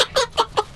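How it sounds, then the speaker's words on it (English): Ruby, a backyard hen, gives three short clucks spaced a fraction of a second apart, close and fairly clear with no talking. "That's Ruby, that's my hen."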